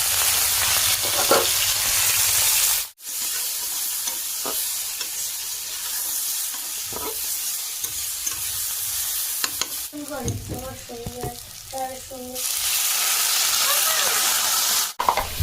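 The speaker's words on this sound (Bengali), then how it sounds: "তো মাছটা ভেজে নেব।" Fish fries in hot oil in a pan in a village kitchen in the Sundarbans, giving a loud, close, continuous sizzle with sputtering and stirring noises. The sizzle dips briefly twice, and a voice is faintly heard partway through.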